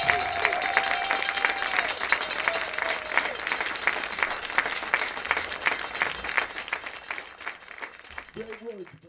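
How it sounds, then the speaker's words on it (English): Crowd applause and cheering at a 2021 Kahok high school baseball game against Nashville, honoring the seniors, dense clapping that holds steady for several seconds, with a tone sounding early and a voice at the end. "help us give a round of applause to our 2021"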